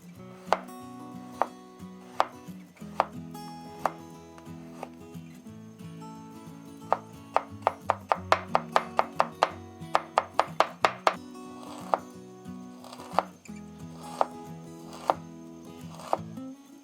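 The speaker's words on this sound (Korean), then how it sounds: "마늘과 생강은 길이대로 곱게 채 썰어 주세요." Garlic and ginger are finely julienned with a knife on a cutting board, crisp close knife taps on wood, scattered at first, then quickening into a rapid even run of chops before slowing again, with no talking.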